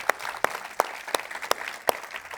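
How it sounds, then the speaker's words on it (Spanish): A church congregation claps in rhythm, with six sharp, evenly spaced claps about a third of a second apart. The claps are close and prominent over a low murmuring background. "¿Quién puede darle un aplauso al Señor?"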